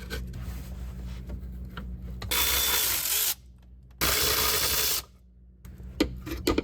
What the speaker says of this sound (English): even though these bolts are rusty as hell, they're actually coming off pretty easy